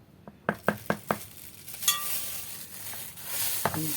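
Sugar, ghee, a pinch of salt and a spoon of vanilla being mixed for ghorayeba cookies: a few quick knocks of a spoon against the bowl, then soft steady scraping and stirring with another tap near the end.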